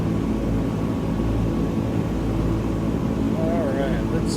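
A Microsoft Flight Simulator 2020 airplane drones steadily in flight, a constant engine hum carrying from start to finish, with someone talking briefly near the end.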